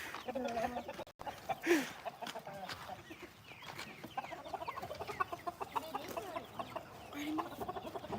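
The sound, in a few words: chickens clucking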